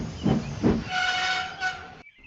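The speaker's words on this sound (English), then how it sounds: "A little later, Donald had arrived with the works train." An animated works train arrives, two puffs of steam chuffing out before a sustained whistle sounds and then cuts off abruptly, fairly quiet and alone.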